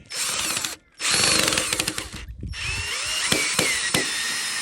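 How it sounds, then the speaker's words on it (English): A power drill whirs steadily up close, pausing briefly, then labours with a lower, strained tone as it drives a screw into a rust-proof double-end assembly, with faint clicks. "You can hear how the drill's just torquing the screw in nicely."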